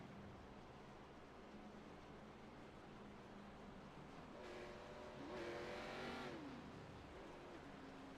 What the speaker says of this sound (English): You hear these guys out there, they're clutching their cars, trying to save fuel under caution.